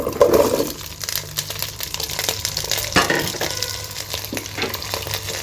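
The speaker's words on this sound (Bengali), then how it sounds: "আলু এবং পটলগুলোকে আমি একটু ভেজে নেব, সামান্য ভেজে নিচ্ছি" Pieces of potato and pointed gourd frying in a pan with bay leaf and cinnamon, a loud crackling sizzle after they go in, settling into steady frying with stirring scrapes, no speech.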